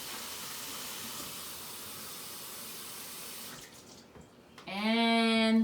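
Warm water is poured into a homemade play-doh mixture as a steady, rushing flow for several seconds before it stops. A loud tonal sound with a clear pitch then cuts in briefly at the end.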